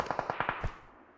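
Gunfire striking the player in an online shooter: a quick burst of about six sharp, closely spaced shots that ends in a heavier hit and then fades into a short tail.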